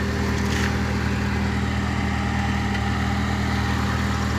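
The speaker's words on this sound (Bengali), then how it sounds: "স্কুল থেকে এখন পার্কিং দিতেছে। দেখেন সবাই কিভাবে পার্কিং দেয়।" Car engines idle and cars creep along while parking outside a school, a steady low rumble and hum with no clear passes or gaps.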